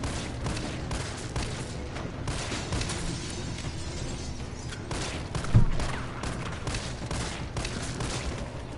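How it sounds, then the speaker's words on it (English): Handgun shots fire at zombies in the Resident Evil 3 remake, a steady run of repeated pops over dense game noise, with one louder blast standing out midway. "We are going to lay into them with these zombies here by blasting handgun bullets."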